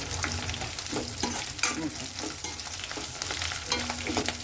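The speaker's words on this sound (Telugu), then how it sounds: "బాగా వేపేసుకుని ఈ అల్లం కూడా వేసేసి వేపేయాలండి" Grated ginger and cumin seeds fry in hot oil in a pan with curry leaves and dried red chillies, giving a steady close sizzle broken by repeated scrapes and stirs of a spoon.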